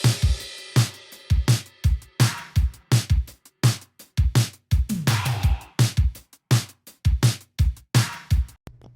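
Layered, well-produced drums with added effects in an indie pop/rock song, punchy kicks and snares hitting in a steady, driving rhythm with bright cymbal wash, loud and up front with no voices.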